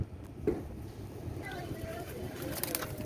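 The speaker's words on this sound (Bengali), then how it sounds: "এটা হচ্ছে রয়্যাল টেডি কবুতর" Royal Teddy pigeons coo nearby, soft low calls coming and going under background voices and faint outdoor noise.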